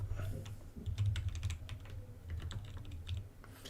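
Rapid computer keyboard typing picked up close to a microphone on a live stream, dense clicking over a low steady hum, with no voices.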